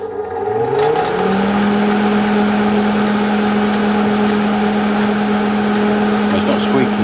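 An old MIG welder's cooling fan, left sitting for ten years, spins up over about a second into a steady, loud whirring hum with a rising tone that settles into a constant pitch and runs alone.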